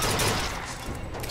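Rapid gunfire from a player's weapon in the first-person shooter Bioshock Infinite, a dense, loud burst of repeated shots filling the whole short moment.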